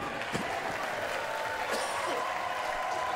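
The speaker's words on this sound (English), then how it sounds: "a big cheer from the crowd here at Allen Park" A crowd at a PBA bowling tour finals semifinal at Allen Park applauds and cheers continuously, a broad wash of clapping with a commentator talking over it.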